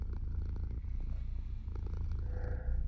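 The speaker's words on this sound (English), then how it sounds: "I missed your purring so much." A cat purrs in a video game, a soft continuous low rumble heard close and steady, with faint background tones toward the end.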